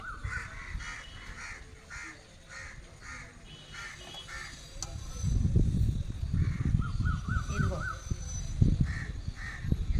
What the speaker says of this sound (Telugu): కాకులు చూడు ఎలాగ చేస్తున్నాయో